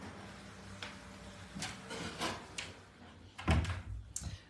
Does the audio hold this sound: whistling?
no